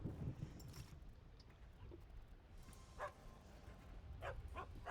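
A dog in the Magic the Gathering Arena card game gives a few faint, short barks and yips, scattered irregularly over a quiet background hum with no speech.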